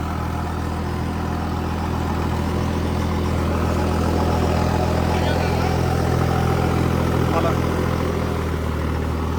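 A 3630 tractor hauls a rotavator in third gear, its heavy engine holding a steady low drone throughout while someone talks over it.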